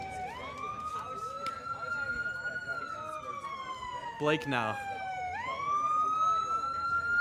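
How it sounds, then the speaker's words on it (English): An ambulance siren wails in a slow rising and falling tone, loud and nearby, passing a baseball game, while someone speaks briefly underneath. "Apologies for the loud sirens, folks. Ambulance going by."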